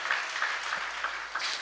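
A congregation claps loudly and steadily during a Sunday church service at Calvary Krupa Mandiram in Mallepally, the dense applause filling the room without pause.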